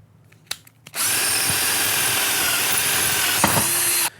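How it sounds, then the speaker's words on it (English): A hammer drill bores into concrete block with a masonry bit, a loud, steady grinding buzz that runs unbroken for about three seconds after a few short taps, close by with no talking. "A hammer drill would be more suited for drilling the holes into the block."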